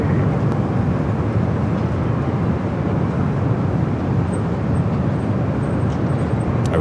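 A Philippine Airlines A350 jet roars on takeoff at LAX in gusty wind, a loud, steady broadband rumble that holds evenly throughout with no voices.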